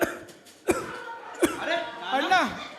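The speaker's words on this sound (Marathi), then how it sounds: "आईला खोकला काय सुरू झाला." During a hospital comedy skit about tuberculosis, a person gives two sharp, close coughs a moment apart, followed by throaty voiced groaning.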